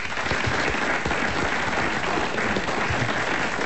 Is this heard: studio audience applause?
yes